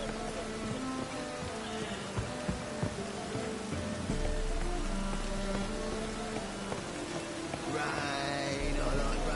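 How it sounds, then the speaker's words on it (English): Steady rain falls in The Witcher 3, a dense continuous hiss with a faint clip-clop of horse hooves and scattered game sounds underneath, no voices. "Rain, I like rain."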